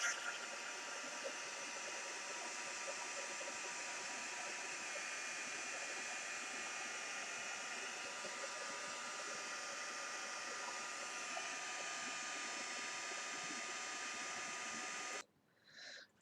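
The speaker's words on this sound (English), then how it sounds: "just use your heat tool" A heat tool blows hot air onto paint in a steady, loud, unbroken whoosh with a faint motor whine, running nearly the whole time before cutting off abruptly at the end.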